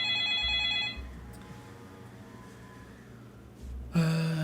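A mobile phone rings on a desk during a programming livestream, a tonal electronic ringtone in short repeating bursts, moderately loud over faint room hum, with no talking.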